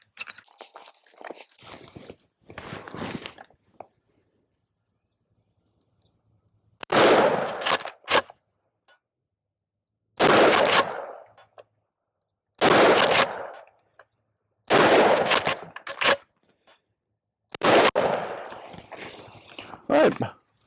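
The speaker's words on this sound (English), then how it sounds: "Vang Comp 870, shooting 1-ounce slugs, 50 yards" Remington 870 shotgun fitted with a Vang Comp barrel firing 1-ounce slugs, five loud, sharp blasts spaced a few seconds apart, each with a brief echoing tail, preceded by softer handling clatter.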